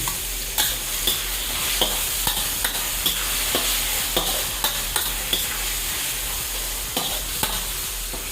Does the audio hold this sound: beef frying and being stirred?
yes